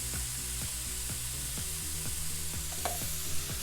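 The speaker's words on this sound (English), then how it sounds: "Once those vegetables are nice and sauteed, we're gonna add the garlic" Garlic sizzles in a hot pan with sautéed vegetables for a low-carb jambalaya, a steady frying hiss broken by regular scraping strokes of a spoon stirring the pan, close and continuous, with no voices.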